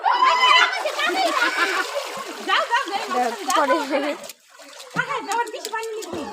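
A child splashes water while swimming at Nahar Garden, the sloshing mixed with loud, near voices of people talking and calling out throughout, then briefly quieter before the talk resumes.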